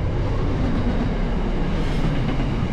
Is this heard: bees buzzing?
no